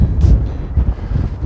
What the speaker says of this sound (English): I do apologise for the noise,